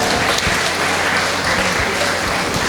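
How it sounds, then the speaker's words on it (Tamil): Crowd applause at a Tamil blood-donation charity trust's triple celebration event, dense steady clapping from an audience filling the whole stretch at even loudness, with faint voices mixed underneath. "உற்சாகமாக கைத்தட்டுங்க பார்க்கலாம்."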